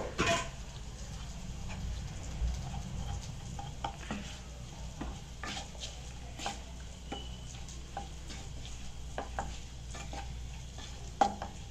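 A spoon stirs a cooled lemon mixture into cooked rice for lemon rice, making quiet repeated scraping strokes and occasional light clicks against the vessel, faint and close over low background noise.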